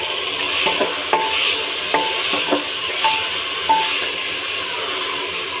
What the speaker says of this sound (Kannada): ಇದನ್ನು ಅಷ್ಟೇ ಒಂದು 5 ನಿಮಿಷ ಆಯಿಲಲ್ಲಿ ಫ್ರೈ ಆಗಿಬಿಡಲಿ